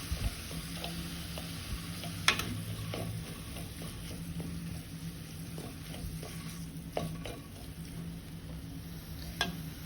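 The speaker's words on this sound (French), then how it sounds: "je fais en sorte d'écraser la viande hachée pour pas que ça fasse des grosses boulettes" Minced meat frying for lasagne while a utensil crushes it against the pan: an even, moderate sizzle with scattered sharp taps and scrapes from the pressing.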